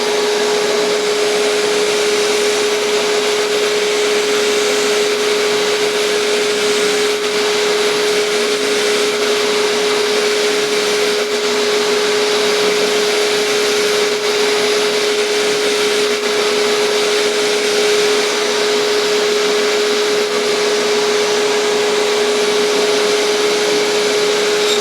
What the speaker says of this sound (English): I will touch this to the disc sander from about here back just to make sure this is good and flat